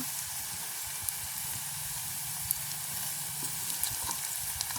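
Curry leaves sizzle and crackle as they hit a hot pan in a village kitchen, a steady quiet frying hiss with a few small pops, no voices.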